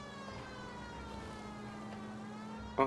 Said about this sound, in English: Alright, so I'm actually gonna turn on my siren.